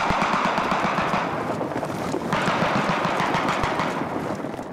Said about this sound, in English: With covering fire from the high ground, Bertie leads his troop forward.